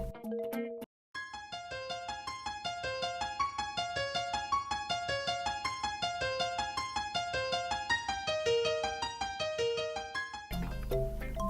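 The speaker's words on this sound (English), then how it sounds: "Now that I have the riffs done, they sound like this." Simple octave-based riffs in a song written in 6/8 time at a tempo of 80, a steady stream of bright, clear plucked synth notes leaping up and down an octave, loud and alone after a brief blip, ending in a noisier burst.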